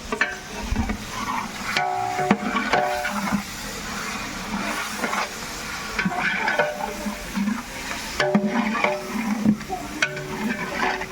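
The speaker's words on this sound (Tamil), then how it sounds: "பிரியாணிக்கு தேவையான கறி போட போறோம்" Meat for birthday biryani frying and being stirred in a pot, a steady close sizzle broken by repeated scraping strokes of a spoon against the metal, with no talking.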